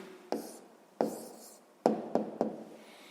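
A pen writing an answer on paper in a quiet room, giving a few short scratchy strokes and light taps spaced irregularly, close and soft.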